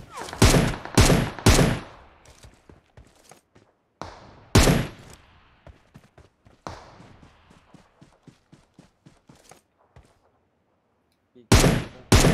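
Sharp bursts of PUBG Mobile gunfire crack out in clusters, loud and close, with scattered lighter shots and footstep-like taps between volleys and a short lull before a final double burst.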